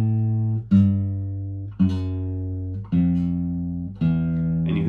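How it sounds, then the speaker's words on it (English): Four sustained keyboard chords sound one after another, each struck with a soft attack, the bass note stepping downward from chord to chord. "it's basically a descending, you know, this descending bass line kind of movement"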